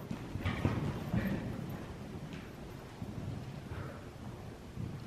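Hooves of a ridden horse clip-clopping in a steady rhythm at moderate distance, with wind buffeting the microphone.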